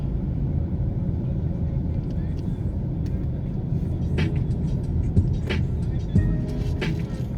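Car driving along King Street in downtown Kingston, Jamaica, a steady low engine and road rumble filling the whole stretch, with a few faint knocks and passing traffic noises in the background.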